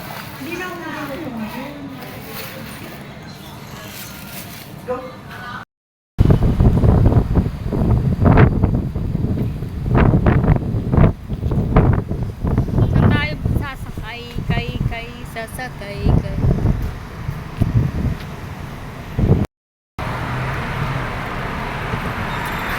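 Strong wind buffets the microphone with gusty rumbling and roaring, while people talk intermittently over it.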